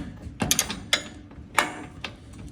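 Ratchet wrench turning a bolt on a Pro R Turbo R toe-link during a suspension install, a few sharp mechanical clicks and clacks in quick, uneven bursts, close and fairly loud with no talk.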